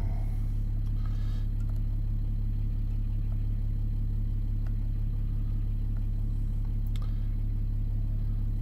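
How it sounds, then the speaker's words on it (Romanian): A Volkswagen Touareg diesel engine idles with a steady low rumble and a constant deep hum, heard close and unchanging, with faint small clicks. "Bun, haideți să pornim toaregul."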